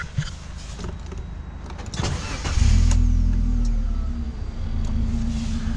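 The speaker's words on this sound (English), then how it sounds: "I'm just gonna see if I can start this car up" A Mini Moke's engine cranks and catches, then settles into a steady, loud idle that continues close by with no talking.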